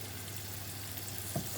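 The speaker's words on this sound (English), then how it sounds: "I'm just going to now start dropping my butter in." Butter dropped into a preheated pan for cauliflower cheese gives a soft, steady sizzle and fry crackle, faint and continuous, with a brief louder bump near the end.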